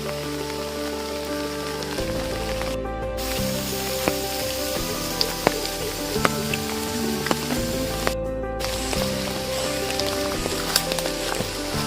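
Steady monsoon rain falls outside in a green Konkan village setting, a dense continuous hiss with occasional drip ticks, heard alongside a looping music track that sits over it throughout.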